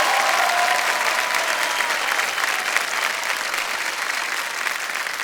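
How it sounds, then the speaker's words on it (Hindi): Sustained applause from a studio audience at the KBC India quiz show, welcoming a contestant to the hot seat; dense, steady clapping throughout with no break, fairly loud and close, with a faint voice briefly under it at the start. "तालियां बजती रहनी चाहिए श्रद्धा जी के लिए"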